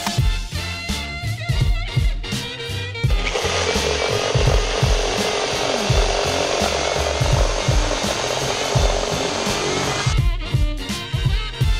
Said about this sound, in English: Using a reciprocating saw, I cut the header between each truss so I could take them down individually.